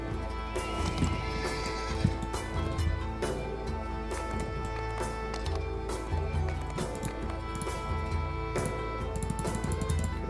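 Rhythmic hoofbeats of a galloping horse in the game DDO (Dungeons & Dragons Online) over steady game music, with an occasional whinny.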